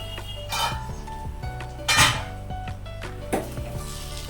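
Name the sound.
stirring potol posto in a pan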